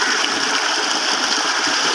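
Water gushes steadily from the 5-inch delivery pipe of a solar-powered pump driven by a Japanese inverter on 36 panels, a loud, continuous broadband rush that fills the clip without pause and with no talking.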